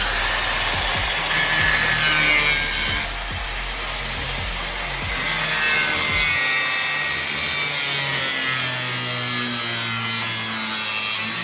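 A saw cutting through a piece of wood, giving a continuous, fairly loud rasping drone with faint rhythmic strokes underneath, heard steadily without talk.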